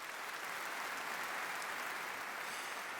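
Steady applause from an audience at a church worship event, a continuous dense wash of clapping heard from a distance and fairly quiet throughout, with no talking.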